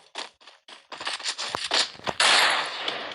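Rapid gunshots in the video game Counter-Strike during a ranked match, a burst of several sharp cracks followed by denser firing and noise, fairly close and loud.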